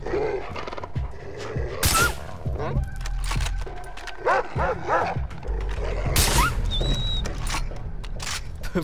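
A dog in Far Cry 3 gives several loud, harsh barks and growls scattered through the stretch, mixed with other game sounds while someone talks.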